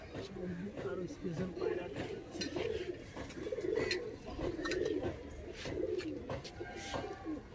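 A Fatka pigeon coos in repeated soft, throaty rolls, close by, in a pigeon loft. A person's voice runs alongside the cooing.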